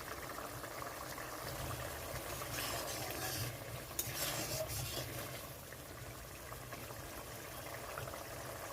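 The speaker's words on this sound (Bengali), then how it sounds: "তো এখানে ঝোলটা ভালো মতো ফুটে গেছে, আর ঝোলটা ভালো মতোই ফোটাতে হবে।" Fish curry gravy for a spicy small rohu (chara pona) dish at a steady rolling boil in a pan, a continuous bubbling, hissing wash that stays fairly even throughout with no voices.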